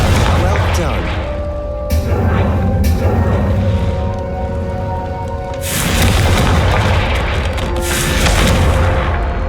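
Fire and explosion spells cast in Hogwarts Legacy, heavy booming blasts and crackling bursts recurring across the clip, loud and close, with voices talking between them.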